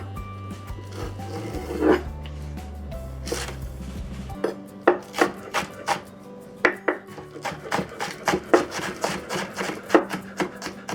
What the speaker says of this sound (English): Let's mince the green onion.